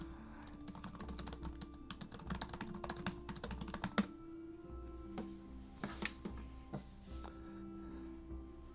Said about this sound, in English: I'll type in chat, that's easier.